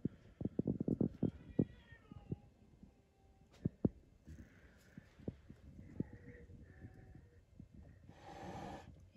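A domestic cat meows indoors, a few short mid-pitched calls in the middle of the stretch amid light tapping and handling noises, ending with a brief rushing noise.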